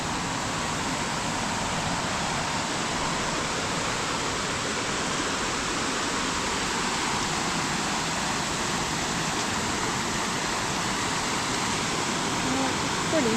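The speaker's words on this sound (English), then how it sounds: "waterfall right here." Waterfall on the Buzzard Branch trail, a steady broadband roar of falling water that holds constant throughout, fairly close and unbroken.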